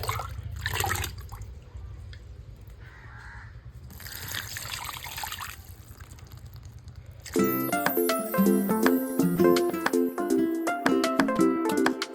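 Water pours and trickles steadily into a container in the first part, then gives way to a different, louder sound for the rest, with no speech.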